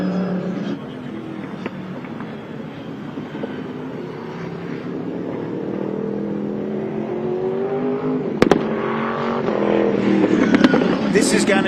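A twin-turbocharged time attack race car revs at a motorsport event, its engine building to a loud, rising roar with sharp bursts near the end, while people talk over it.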